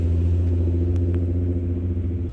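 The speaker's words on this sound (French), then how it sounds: "Vous voyez les voitures passer comme ça" Cars rolling past at an outdoor car show meet, a steady low engine rumble close by with faint clatter, continuous through the whole stretch and fading slightly at the end.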